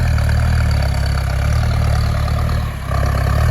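A Massey Ferguson 4708 85 hp farm tractor idles close by, a steady loud low diesel rumble that holds evenly throughout with a brief dip near the end, no talking over it.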